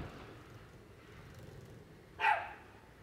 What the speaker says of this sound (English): And of course, a yipping little dog.